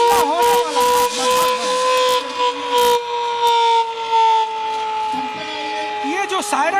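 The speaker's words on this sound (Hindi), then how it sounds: "ये जो सायरन अभी धीमे तेज आवाज में बजा, इसका मतलब है कि हवाई हमला होने वाला है।" An air raid warning siren wails with a pair of steady tones that slowly sag in pitch, accompanied by repeated mechanical rattling bursts, loud and close, with a voice briefly present.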